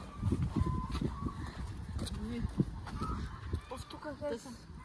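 Chickens cluck and call continuously in the background in Greece, with occasional louder honking notes and faint voices nearby.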